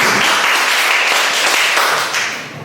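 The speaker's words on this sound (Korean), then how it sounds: "큰 박수 부탁드립니다." Audience at a women's policy forum applauds to welcome a speaker, a loud burst of many hands clapping that holds steady and then tapers off toward the end.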